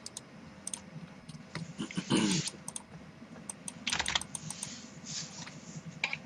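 Rapid clicking of a computer keyboard being typed on, irregular bursts of keystrokes with a couple of heavier clustered clatters, close and fairly quiet over a low background hum.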